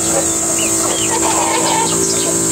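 Chickens in a backyard pen cluck and chirp in scattered bursts against a constant loud hum, the birds fairly close but partly buried under the steady noise.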